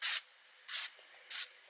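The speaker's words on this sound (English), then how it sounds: "I'm going to spray a bit more at the front of my hair there to get it in." Batiste dry shampoo sprays onto hair in three short aerosol hisses, each lasting a fraction of a second with brief pauses between, close and fairly loud, with no voices.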